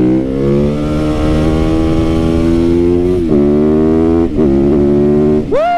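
A custom Yamaha VMAX-style motorcycle rides along back roads, its engine droning loud and close with a steady harmonic growl, briefly dipping at gear changes and then revving up sharply at the end.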